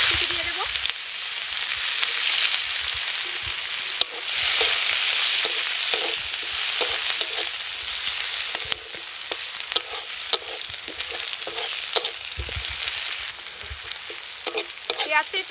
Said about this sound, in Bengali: পেঁয়াজটা একটু লাল লাল করে ভাজা হবে।